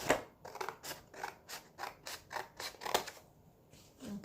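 Scissors cut the side off a cardboard box in close-up, about ten crisp snipping strokes in a steady rhythm, quiet and alone, ending in a short silence.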